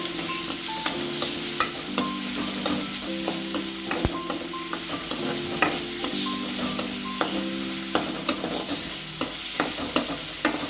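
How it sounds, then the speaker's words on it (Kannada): Onions fry in a pan for egg sambar, a steady close sizzle with frequent spoon scrapes and stirring clinks over the crackle, no voices. "ಈರುಳ್ಳಿ ಚೆನ್ನಾಗಿ ಫ್ರೈ ಆಗೋವರೆಗೂ ಕೆಂಪು ಬಣ್ಣ ಬರೋವರೆಗೂ ಫ್ರೈ ಮಾಡ್ಕೊಳ್ಳಿ"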